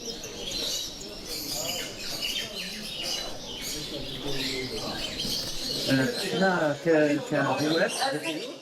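Ornamental birds at an open-to-the-public bird championship and exhibition in Algeria, chirping and warbling in a busy hall, with people talking throughout.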